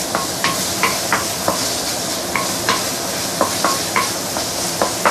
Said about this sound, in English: I'm going to saute this for a minute or two before we come back